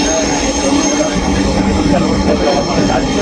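Dhaka metro rail train at a station, a loud continuous rumble of rolling carriages with high wheel squeal and a steady hum, close by, with people talking faintly underneath.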